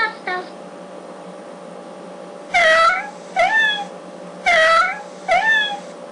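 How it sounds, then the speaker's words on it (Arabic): A cat meows four times in close succession, clear and fairly loud over a low steady hum, with short gaps between the rising-and-falling calls. "قطة قطة قطة قطة قطة قطة"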